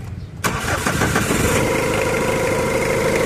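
After a brief quiet moment, a Mitsubishi Adventure engine cranks and catches, then settles into a steady, loud idle that holds to the end; the engine is under test for a suspected head gasket fault.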